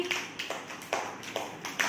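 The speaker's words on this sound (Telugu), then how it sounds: "వీళ్ళు క్లాప్స్ కొట్టండి" A few children clap in a classroom, each short bout a quick, light, fairly faint patter that starts and stops several times in two seconds, with no talk over it.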